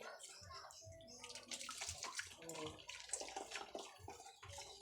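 Water splashes and sloshes as a baby is bathed in a small bucket, irregular close splashes mixed with an adult talking and a child's sounds.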